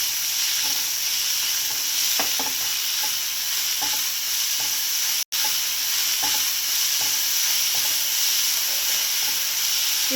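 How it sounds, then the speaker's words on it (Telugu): Amaranth leaves seasoned with salt and turmeric sizzle steadily in a hot pan, with a continuous loud fry hiss and light intermittent scrapes of stirring, close up. "చిటికెడు పసుపు యాడ్ చేసుకొని ఇప్పుడు కలుపుకుందాము."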